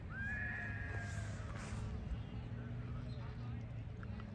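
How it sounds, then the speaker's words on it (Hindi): A horse neighs loudly near the start at a horse show in Jodhpur, a rising whinny over a busy outdoor background with a constant low hum and someone talking. "घोड़ा मेरे को लगता है थोड़ा सा गुस्सा हो गया शायद"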